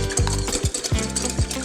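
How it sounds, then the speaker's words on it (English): A whisk or fork beats an egg in a bowl, making four quick rhythmic strokes with scraping and clinking against the bowl, close up over a constant background hiss. "I'm going to crack this egg into the bowl, and we're going to mix that"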